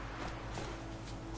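Horse hooves clip-clop steadily in the Witcher 3 video game, a soft, even rhythm of footfalls under a constant low game hum, with no voices.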